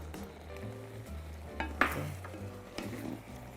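Royal tteokbokki with chewy jorang rice cakes simmers in a pan, giving a soft, steady bubbling sizzle broken by a few brief stirring clanks and scrapes, quiet and close with no voices.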